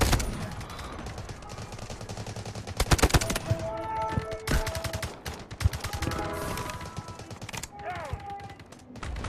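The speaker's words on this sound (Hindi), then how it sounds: "किसी ने तो मुझे गोलियां मारी हैं।" Dense gunfire in the Delta Force video game, with bursts of automatic shots and single cracks thudding repeatedly, layered with game effects and tonal interface sounds throughout.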